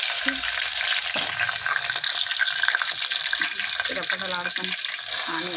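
Green chilies and onion hiss and crackle in hot oil for chicken curry, a steady close sizzle broken by stirring clatters, with a voice speaking over it.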